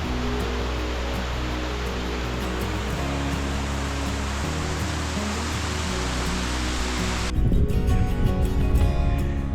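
A waterfall in the Idaho wilderness roars as a steady, broad rush of falling water, loud and unbroken, with a rougher, closer burst of noise near the end.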